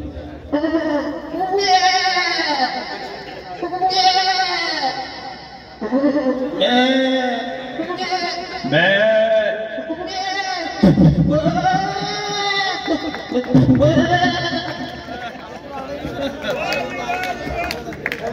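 A man imitates a goat bleating, a long run of quavering, nasal bleats in bursts, close and loud, with murmuring from a crowd around him.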